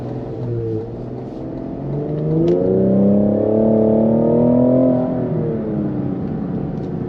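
A 2020 Cadillac CT5-V driven aggressively, its engine note climbing in a loud revving pull before settling back to a steady cruising drone heard from inside the car.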